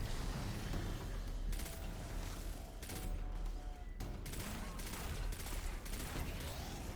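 Witherhoard weapon shots in Destiny 2 during a solo master Empire Hunt: a few sharp, broad blasts spaced over several seconds, set against continuous rumbling game noise and fairly quiet overall.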